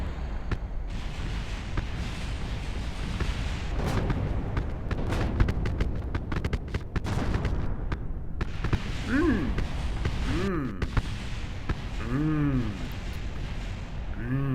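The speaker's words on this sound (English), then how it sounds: "Explosions." Rumbling explosions in the video game Kerbal Space Program go off continuously in dense, noisy bursts, with a voice speaking now and then over the din.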